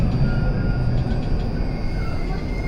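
Steady low rumble of a Tokyo train heading for Haneda Airport, heard from inside the carriage as a continuous close drone with faint high tones above it and no talking.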